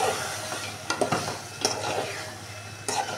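Reserved chicken pieces go into a pumpkin curry base cooked until the oil separates, sizzling steadily while a spatula scrapes and knocks against the pot in several close, uneven strokes.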